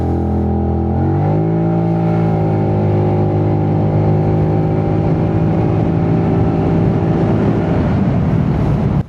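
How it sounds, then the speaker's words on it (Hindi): A TVS NTORQ 125cc scooter with its stock exhaust and muffler, heard through a helmet-mounted mic: the engine idles, then revs up and holds a loud, steady drone for several seconds before dropping off. "जो डिफ़ॉल्ट साउंड है डिफ़ॉल्ट एग्जॉस्ट का, डिफ़ॉल्ट मफलर का, वो काफ़ी तेज़ है।"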